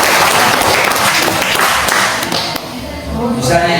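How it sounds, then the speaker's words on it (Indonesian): Applause from a classroom audience in an Indonesian writing lesson, a dense patter of many hands clapping that thins out after a few seconds. "Silakan berikan aplaus."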